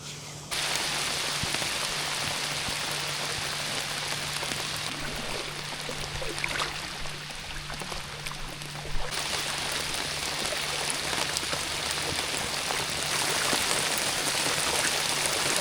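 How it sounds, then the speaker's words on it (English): Light rain sprinkles steadily and evenly on the water and surfaces around a kayak out fishing in a remote spot, a constant close hiss with a faint low hum beneath and no voices. "Had a pretty good sprinkle there for a minute"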